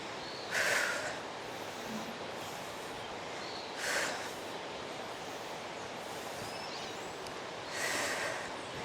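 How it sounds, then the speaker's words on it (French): Three sharp, breathy exhalations are pushed out at intervals during a strength exercise in a workout session, each a short forceful burst close to the microphone over a steady background hiss. "Soufflez à l'effort."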